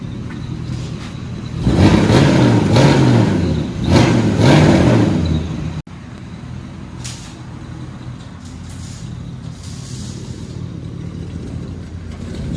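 A 1966 Chevy Impala SS 396 with true dual straight-pipe exhaust roars in a heavy, deep rev that swells twice, then drops to a rumbling idle that stays low and steady.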